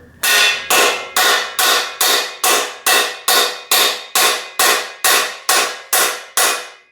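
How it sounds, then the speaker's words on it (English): Thirteen sharp metallic strikes from a homemade hammer driving a bearing cup out of a damaged Specialized Allez bike frame, in a steady, evenly spaced rhythm, loud and close, each ringing briefly before the next blow. "And then I'll use my homemade little hammer here."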